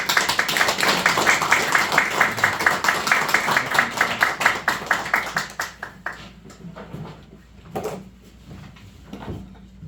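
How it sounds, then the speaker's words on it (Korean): An audience at a civic governance forum in Guri, South Korea, claps in quick, even bursts as a former presidential secretary is welcomed to the stage. The applause is loud at first, then thins to scattered claps. "여러분의 뜨거운 박수로 김거석 전 수석님을 모시겠습니다"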